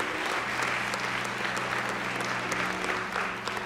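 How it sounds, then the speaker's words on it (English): A church congregation gives a sustained hand clap of praise, a dense, steady wash of many hands clapping at once that fills the room evenly from start to finish. "Let's give God a hand clap of praise right there."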